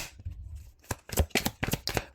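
Tarot cards being shuffled by hand, a close series of quick papery riffles and slaps in uneven bursts, with no talking.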